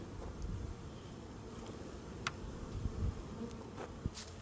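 Honeybees buzz around a hive entrance as they fly in and out, a faint, steady hum with a few individual insects whizzing close past.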